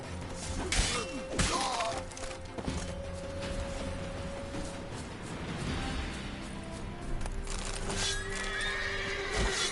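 Roach, the horse in The Witcher 3, whinnies amid a chaotic fight, with hooves clopping, thuds and shattering crashes around it, all fairly close and busy.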